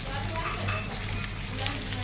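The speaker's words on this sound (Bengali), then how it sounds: "আমি সম্পূর্ণ মাছটি কড়া করে ভেজে নিচ্ছি।" Whole rohu fish fry crisp in hot oil while being prepared for biryani, giving a steady, dense sizzle and crackle that runs throughout under a voice talking.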